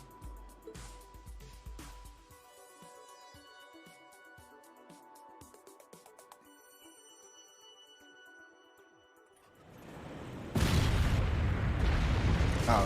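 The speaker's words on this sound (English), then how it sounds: "Oh, this is the ship exploding." A ship explodes in the video game Trails of Cold Steel IV: sparse game sounds and tones give way to a loud, sustained roaring blast that swells and holds to the end.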